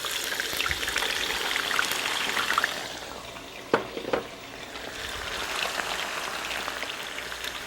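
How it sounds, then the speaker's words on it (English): A dense, crackling sizzle of potatoes deep frying in ghee in a wok, with a couple of brief clinks partway through as the bubbling briefly eases. "We're going to deep fry these in our wok."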